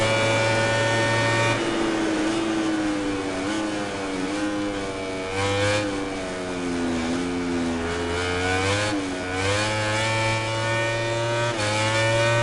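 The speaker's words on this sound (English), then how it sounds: "This is serious motorbike racing." Motorbike engines whine and rise through the gears on the final lap of a race in the video game MotoGP 19, a steady loud drone with pitch sweeping up and down continuously, no voices heard.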